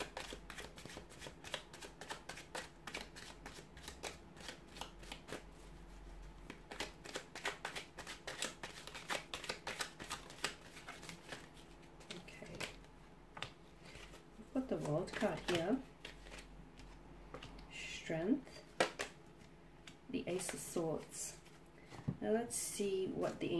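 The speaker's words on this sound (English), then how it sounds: "So we'll give the cards a shuffle and see what they're predicting." Tarot cards riffled and shuffled up close in quick repeated bursts of crisp flutter, with a few pauses and soft handling sounds between.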